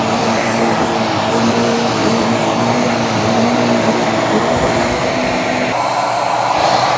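A Jimmy JV35 mattress vacuum runs with suction, roller brush and UV lamp all on, giving a continuous whirring motor drone with a steady hum, close and loud throughout.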